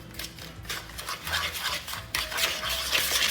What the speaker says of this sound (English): mix these two together until you cream the butter with the eggs